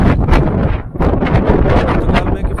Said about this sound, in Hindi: आपको थोड़ी हवा चल रही है